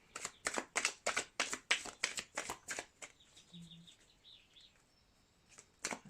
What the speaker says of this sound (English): I think I'm going to shuffle those 2 more times.